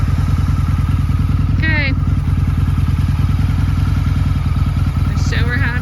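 A Harley-Davidson motorcycle at a riding academy runs with a loud, steady, rapid engine pulse close by, while people speak briefly over it.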